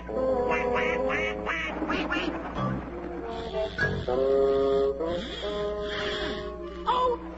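A cartoon character imitates a duck in a Tom and Jerry episode, giving a run of loud, nasal quacks under playful orchestral music.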